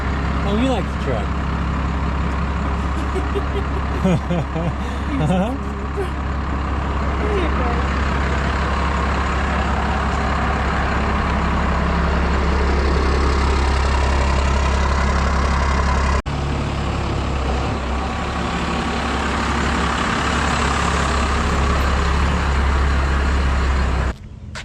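A 1966 Dodge diesel crew cab truck idles with a steady, loud low rumble throughout, close by, while people talk over it.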